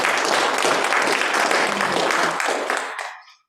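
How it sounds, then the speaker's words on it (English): Church congregation applauding during a Sunday service, a dense, steady wash of many hands clapping at close range that holds evenly, then fades out over the last half second. "So give yourselves a round of applause."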